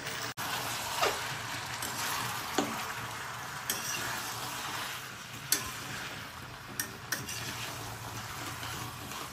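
Mutton and potatoes, salted, sautéed together in a pan with a steady broadband sizzle, punctuated by occasional sharp ticks and scrapes of stirring; no voices.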